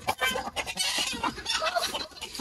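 Broody hens cluck and squawk busily close by, a dense, agitated flurry of fowl calls with rustling, and no talking.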